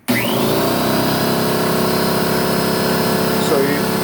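Craftsman 33-gallon air compressor starts abruptly and runs at a steady, loud motor hum with a constant mechanical drone that continues without letup.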